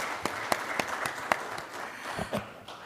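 Scattered applause from an event audience at the FBS MENA 2022 gathering, a room of hands clapping with a few sharp, distinct claps standing out over a steady patter for about three seconds.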